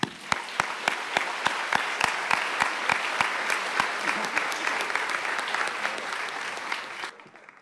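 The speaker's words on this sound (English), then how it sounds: "One more round of applause." Audience applause at a high school senior awards ceremony, a steady dense wash of clapping from a large crowd with a few sharp, regularly spaced claps standing out, continuing strongly before cutting off abruptly near the end.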